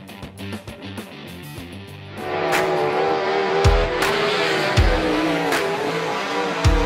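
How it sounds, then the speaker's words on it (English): Winged sprint cars racing on a dirt oval in the iRacing simulator, engines roaring and building in pitch as the pack passes, with a steady loud drone and a few sharp low thumps, with no voices. "Let's go to the wing sprint cars."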